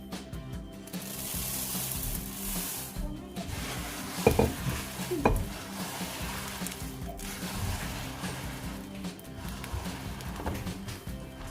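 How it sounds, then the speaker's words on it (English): Rice krispies being stirred into a melted mixture in a pot taken off the heat, giving soft continuous scraping and rustling with a couple of louder clinks of utensil against the pot partway through. "We'll take it off heat, turn it off, and start adding the rice krispies."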